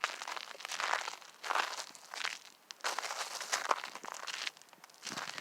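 Footsteps crunch on the ground in a slow walking rhythm, each step a close, crisp crinkling burst separated by brief quiet gaps, with no talking.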